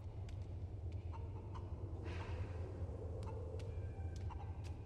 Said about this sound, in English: I scared the chickens away.